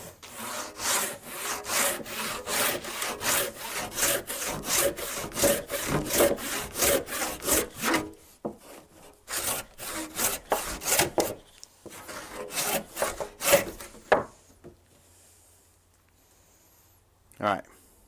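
A handsaw cuts through wood for a wooden holdfast in a steady, rhythmic run of close back-and-forth strokes, pausing briefly before a second bout of sawing that ends in a few final strokes.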